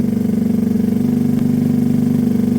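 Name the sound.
motorcycle engine idling with choke on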